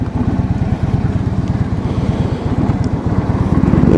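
A 2016 Harley-Davidson Freewheeler trike engine chugs loud and close while riding, a rapid, even throb holding steady and swelling slightly toward the end.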